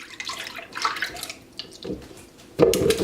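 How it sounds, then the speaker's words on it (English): Cashew milk pours into a Blendtec blender in short splashing bursts, ending with a louder, fuller gush near the end, close by and without talk. "I like to pour my cashew milk first"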